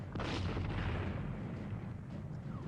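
Heavy artillery cannon fire in a Waterloo battle scene, a loud booming blast near the start followed by a long rumbling decay of continuous battle noise.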